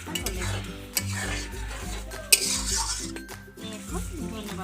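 Egg curry (dim kosha) with garam masala is stirred in a pan, with a spoon scraping and knocking rhythmically against the metal over a soft simmering sizzle, close and fairly loud, with a few sharper clinks.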